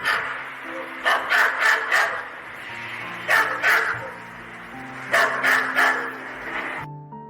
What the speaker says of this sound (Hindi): नीला सियार देखकर गांव के सभी कुत्ते उसके पीछे पड़ जाते हैं और भौंकना शुरू करते हैं।